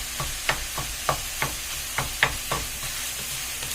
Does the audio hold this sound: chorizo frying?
yes